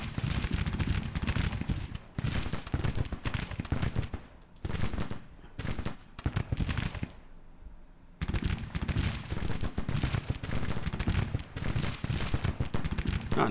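Massed weapons fire in Grand Tactician: The Civil War, a continuous crackling roar of musketry and rapid shots rolling on for many seconds, dropping briefly into quieter stretches before surging loud again.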